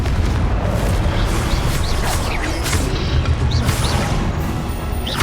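Confringo spell blasts in Hogwarts Legacy, a loud, continuous run of crashing, booming explosions layered over each other with sharp impacts and no speech.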